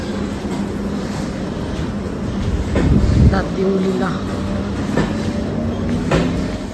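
A train rumbles past with rhythmic clattering and a brief screech, loud and steady, while people talk over it.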